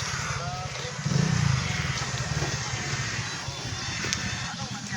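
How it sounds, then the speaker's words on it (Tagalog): A motorcycle passes on the road nearby, its engine swelling briefly in a low buzzing growl before fading, while people talk over it. "Tabi tayo pa may ano, may motor."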